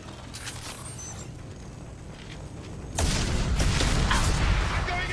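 Gunfire erupts in a Mass Effect Legendary Edition firefight, loud booming shots and rattling bursts kicking in partway through after a quieter stretch of distant pops and mechanical noise.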